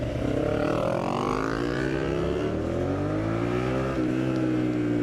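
A decatted car engine revs loud and close, pitch climbing and dropping with a throaty, rumbling exhaust, continuous throughout.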